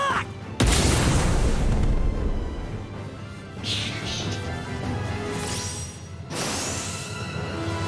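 An explosive special attack in the video game One Piece Odyssey lands with a sudden heavy boom, then a rumbling crash, followed by further whooshing blasts and impacts over a bed of game music.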